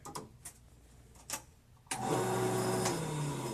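After a few light taps, a lathe spins up with an acrylic fountain pen blank mounted on it, settling into a steady, loud motor whir with faint tonal whine that runs on to the end.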